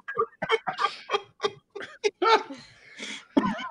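A voice imitates Donald Duck, a quick run of squawky, quacking syllables in short bursts over a few seconds, close and clear.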